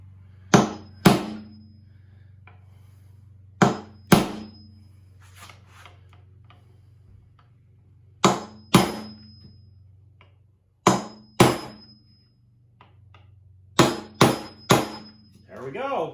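Hammer tapping a nail set onto a nail head while building a wooden tote box: sharp close knocks in pairs and triplets, spaced by quiet gaps over a low steady hum.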